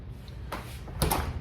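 A door being shut indoors, two quick knocks or clunks a half second apart, moderately loud against quiet room background, no talking.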